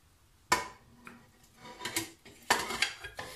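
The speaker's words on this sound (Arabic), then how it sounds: "غادي ناخذ طنجره ديال الضغط، غادي ندير فيها قطع ديال الدجاج هما الاولين" Raw chicken pieces dropped into a metal pressure cooker pot in a home kitchen, a few distinct clanks and knocks of metal with softer shuffling between them, close and fairly quiet, with no talking.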